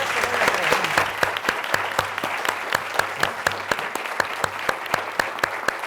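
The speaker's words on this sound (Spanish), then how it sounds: "Demos por favor un aplauso a nuestros invitados." Audience applause for guests at a science event on violence prevention, moderately loud, with a few sharp individual claps standing out in a steady rhythm above the crowd throughout.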